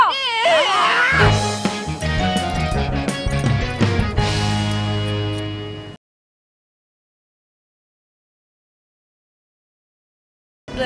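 Cats yowl and screech with wavering, rising cries mixed with sharp clattering for about six seconds, then sudden silence and a brief final noise.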